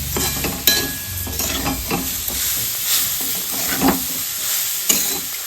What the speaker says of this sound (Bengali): তারপরে একে নাড়াতে থাকবো, লো আঁচে নাড়াতে থাকবো।